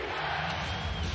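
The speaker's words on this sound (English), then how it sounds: "Crowd going berserk." Basketball arena crowd at a Phoenix Suns versus Sacramento Kings game roaring wildly, a dense, loud wash of cheering that fills the brief moment without a break.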